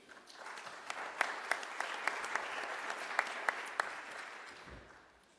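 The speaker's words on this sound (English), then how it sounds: "please give a warm round of applause to Sasha Page" Audience applause at a morning session of a transportation summit, a steady wash of clapping from a seated crowd with a few sharper claps standing out, fading away toward the end.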